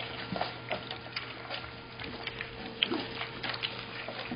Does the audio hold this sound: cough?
no